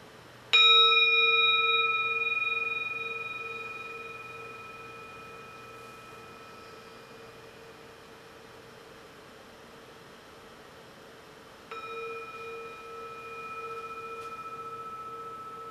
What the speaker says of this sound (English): when I invite the sound of the bowl, you'll hear this chime